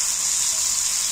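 Fried ivy gourd and shrimp go into a sizzling spice paste, giving a loud, even, hissing sizzle that holds steady from start to finish with no voices.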